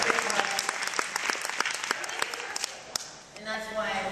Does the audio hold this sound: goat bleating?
no